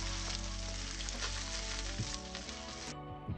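Coral trout fillets fry skin-side down in a pan for crispy skin, a close, continuous crackling sizzle that stays loud and even throughout, with no voices.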